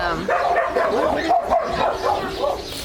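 Pit bull barking and yipping in a dog shelter setting, a steady run of close, fairly loud barks and whimpers spread across the whole stretch.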